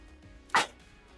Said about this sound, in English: I'm sneezing so much today